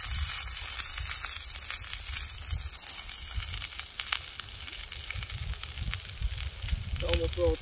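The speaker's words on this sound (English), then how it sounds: "Look at that sizzle." Steak seasoned with Montreal steak spice sizzling on an outdoor grill in windy conditions, a steady dense crackle with wind rumble underneath and a brief voice near the end.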